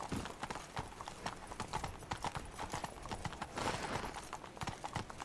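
Hooves of the horse Roach in the video game The Witcher 3 clip-clop in a quick, steady rhythm of close, crisp hoofbeats on hard ground.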